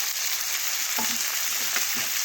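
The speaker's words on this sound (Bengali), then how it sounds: "এখন ভালোভাবে একটু নাড়াচাড়া করে মিশিয়ে নিচ্ছি টমেটো আর মশলা।" Chopped tomatoes with ginger, cumin, garlic and chili paste fry in a pan for a fish curry, giving a constant close sizzle broken by a few soft stirring scrapes, with no talking.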